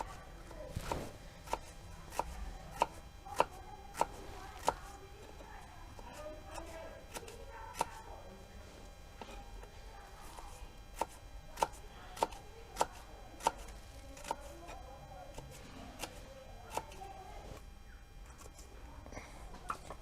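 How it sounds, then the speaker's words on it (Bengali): Knife cutting peeled onions into thin slices for a Bengali jackfruit-and-prawn curry, a steady run of sharp, close taps on a board spread across the whole stretch, over a faint background murmur of speech. "পেঁয়াজগুলো এবার আমি সরু সরু করে কেটে নেবো"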